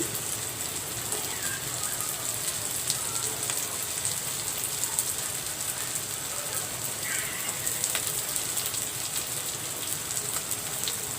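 Bottle gourd fries in a pan seasoned with panch phoron, giving a steady, close crackling sizzle that holds evenly throughout with no talk.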